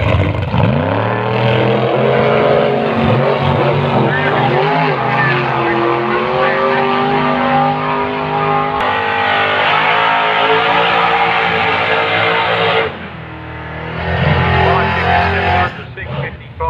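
Chevrolet V8 drag cars, a 424-cubic-inch engine against a 402 LS, roar loudly and continuously at a sunset strip race meeting, with the engine note shifting and dropping near the end while a commentator talks over it.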